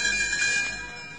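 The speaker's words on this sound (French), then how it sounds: "lorsque vous entendrez tinter ces petites cloches" Small bells tinkle in a bright, shimmering cluster, ringing out and slowly fading over about a second, with no voices.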